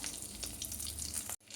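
Oil sizzles steadily in a pan after prawns have been lightly fried, a dense close crackle holding level for over a second before cutting off abruptly.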